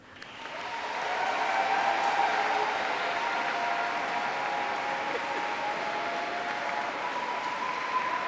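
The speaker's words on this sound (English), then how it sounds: "Give them a round of applause." Graduates applaud their supporters inside Canterbury Cathedral at a University of Kent graduation ceremony, a large crowd clapping in a sustained, even wash that swells in within the first second and holds steady in the reverberant hall.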